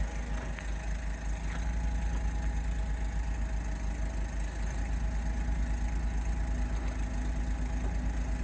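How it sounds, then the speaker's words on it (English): An Alfa Romeo Spider 939 with a 2.2 JTS engine idles steadily with a low, even hum while its convertible roof operates, the soft mechanical whir barely rising above the engine. "I'm going to press that button and you can watch the roof moving"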